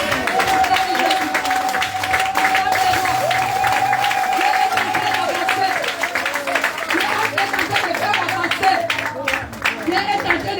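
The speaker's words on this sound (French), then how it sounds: "Est-ce qu'on peut commencer à acclamer?" A church congregation applauds and cheers for Jesus, with steady sustained clapping and crowd noise throughout, mixed with voices calling out.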